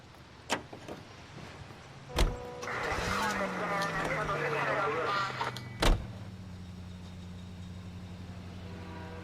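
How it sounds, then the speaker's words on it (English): A Ford-style car in the 1940s Los Angeles of LA Noire starts up and pulls away, engine droning steadily beneath a sharp door thump and loud clunks at either end. "Let's try driving this thing. Is it Ford?"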